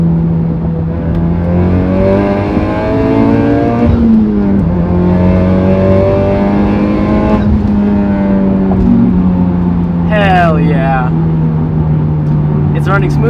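Car accelerating hard in third gear on a test pull after a fuel system install: a loud, close engine drone with a steady rise and slight pitch changes, someone talking over it.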